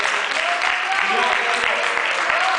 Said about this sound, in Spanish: Dale un aplauso grande.